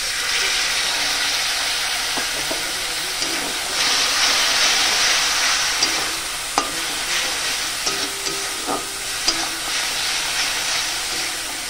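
Spice masala for a boal fish curry sizzles steadily in hot oil in a pan, with louder hissing bursts as water is poured in, plus occasional clinks of a spoon stirring.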